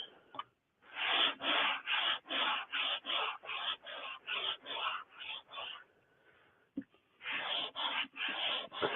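Bandsawn wood is hand-sanded with 150-grit sandpaper in quick, even back-and-forth strokes, about a dozen loud rasping passes, then a short pause and a few more strokes.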